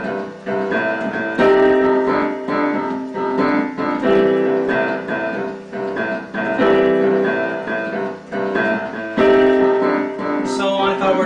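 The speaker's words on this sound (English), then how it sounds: "in this lesson we're going to learn a blues left hand pattern." A piano plays a blues left-hand pattern under right-hand chords, a steady rhythmic groove of repeated bass figures and struck chords rising and falling in loudness. No one speaks.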